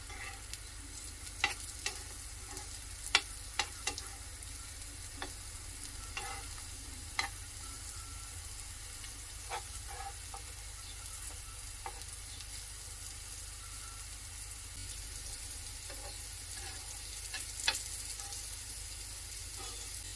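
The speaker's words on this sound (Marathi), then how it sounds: "आता हे असंच आपल्याला फ्राय करून घ्यायचं आहे. अजून एकदा का दुसऱ्या बाजूने परतवून घ्यायचं." Banana slices frying in a pan crackle and sizzle steadily for a long stretch, with scattered sharp spatters and spatula scrapes close by and no voices.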